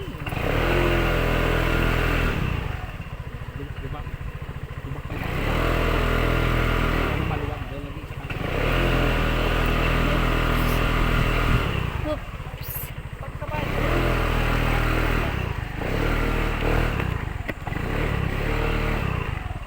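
Motorcycle engine running loud and close, its drone rising and falling as it revs, with voices talking faintly beneath the noise.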